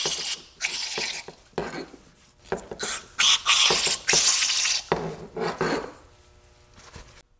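Vintage Williams 3/4-inch drive ratchet being turned while sprayed with brake cleaner, giving bursts of rapid rasping clicks mixed with loud hissing spray, with short pauses between bursts, close up.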